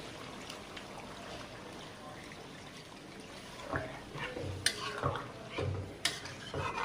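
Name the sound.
pouring water into chicken curry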